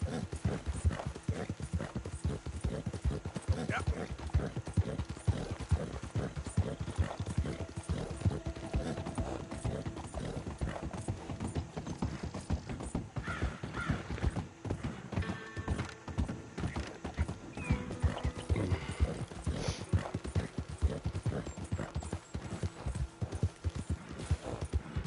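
A horse gallops in Red Dead Redemption 2, its hooves beating a fast, steady clip-clop rhythm close up for the full length, with occasional creaks of tack and a brief whinny along the way.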